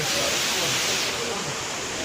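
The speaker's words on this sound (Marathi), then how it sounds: "बघा पाणी यायला लागलं आणि पूर्ण थंड पाणी आहे. तिकडून बी पाणी पडायला लागलं." Cold water pours down at a temple near Tirupati as a dense, steady rushing hiss, close and continuous with no breaks.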